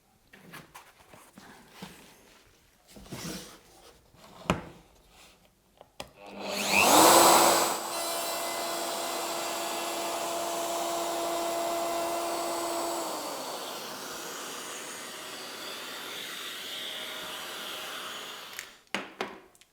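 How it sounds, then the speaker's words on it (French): A wood router fitted with a straight bit machines freehand, starting with a sharp rising whine and then holding a loud, steady motor drone for several seconds before winding down, with faint handling knocks before and after. "J'ai simplement monté sur la défonceuse une fraise droite et je vous propose de faire un usinage à la volée"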